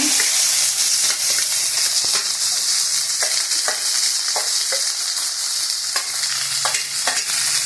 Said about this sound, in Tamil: அதில் வெங்காயத்தை போட்டு துவைக்குங்க